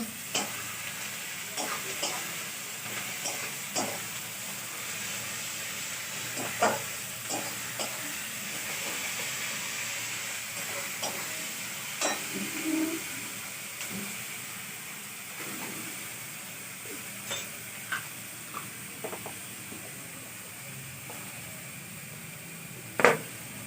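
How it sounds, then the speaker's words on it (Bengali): Garlic frying in a hot pan makes a steady, loud sizzle and hiss that lasts throughout, broken by frequent scraping stirs and occasional sharper pops. "এই যে রসুন দিয়ে দিলাম"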